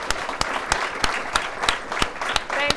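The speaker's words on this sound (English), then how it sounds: "Let's give this panel a round of applause." A seminar audience applauds a panel discussion, with steady clapping from a modest crowd that is sustained and evenly paced for a few seconds.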